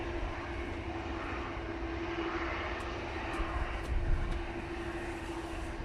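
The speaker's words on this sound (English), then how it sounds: "there is a Ryanair coming over" A Ryanair airliner passes over Manchester Airport on a windy day, a steady, fairly distant engine drone with a faint tonal whine running through it.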